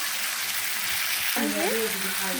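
Pangas fish with potato simmers and fries in spicy masala and oil, a dense, steady sizzle throughout, close and loud, with a voice talking over the second half.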